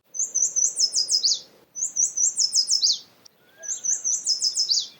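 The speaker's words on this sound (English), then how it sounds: "The yellow warbler says, sweet, sweet, sweet, I'm so sweet." A yellow warbler sings three bright, rapid phrases of high, sweet repeated notes, each ending in a quick downward flourish, separated by short pauses and heard alone.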